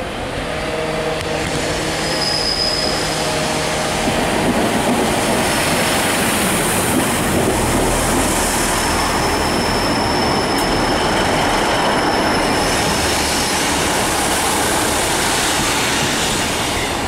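A train runs on the rails toward London Euston, a loud continuous rumble and roar with rattling wheel noise and faint squeals that persists throughout.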